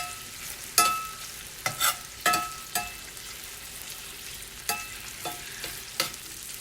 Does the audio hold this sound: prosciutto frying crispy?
yes